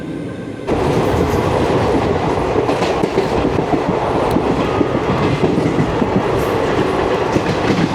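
Onboard the 12467 Leelan Express on a diesel run between Bikaner and Jaipur: steady loud rumble of the train on rails with rhythmic wheel clatter, starting abruptly after a brief quieter moment and continuing without speech.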